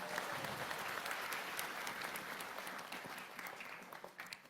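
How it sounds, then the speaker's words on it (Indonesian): Audience at an evening gathering gives steady applause for immigration staff, a dense, fairly distant wash of many hands clapping that thins toward the end. "sekali lagi tepuk tangan untuk semua teman-teman imigrasi"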